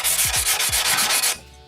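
Rapid, rhythmic scraping of a diamond pad rubbing back and forth across a cut tile edge on a staircase, close and loud, about seven strokes before stopping.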